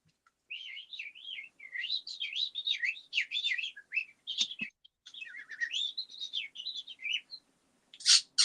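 A person imitating a parakeet, producing a continuous run of high, warbling chirps and tweets with short gaps, fairly close and clear, with a brief low thump midway and a sharp burst at the end.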